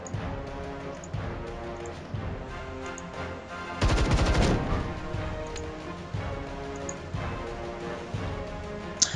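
Gunfire from the sci-fi video game Templar Battleforce, a dense burst of shots lasting about a second midway through, set over steady game music and effects.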